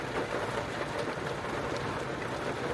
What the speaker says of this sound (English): I get some good rain.